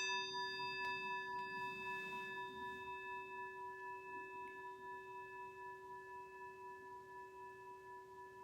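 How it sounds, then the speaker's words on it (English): A meditation bell rings once with a clear, steady tone and long sustained overtones, slowly fading away over several seconds in a quiet room. "listen to the sound of the bell as it recedes into the distance"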